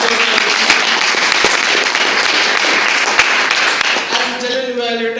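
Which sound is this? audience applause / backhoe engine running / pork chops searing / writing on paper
audience applause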